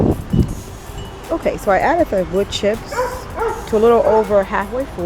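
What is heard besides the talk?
dog barking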